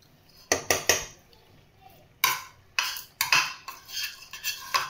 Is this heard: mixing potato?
yes